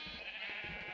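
Sheep bleating inside a video game mob compression farm, a short, faint cluster of overlapping bleats from several animals with a steady hum underneath.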